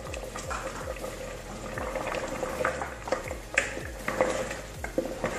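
Beef ribs simmering in a pot of boiling liquid while cooking vaca atolada, a steady bubbling with occasional stirring and clinks from the pot, close and fairly quiet.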